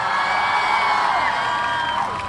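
A large crowd at a political rally for Imran Khan in Gujrat claps and cheers in a sustained roar of applause with scattered whoops.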